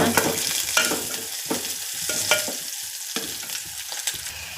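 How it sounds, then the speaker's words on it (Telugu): Onions sizzle and fry in a pan as the base for a mango and drumstick curry, with a steady hiss and repeated sharp scrapes of a spoon stirring, close up and without talk. "ఇక్కడ ఉల్లిపాయలు వేగుతున్నాయి అన్నమాట"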